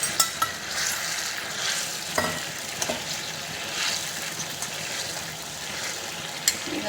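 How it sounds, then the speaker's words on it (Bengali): Fried paneer goes into simmering garlic gravy, giving a continuous bubbling sizzle with occasional spoon clicks and stirring scrapes, fairly close and moderately loud. "এবার আমি ভেজে রেখেছি সেইগুলো সব দিয়ে দেবো"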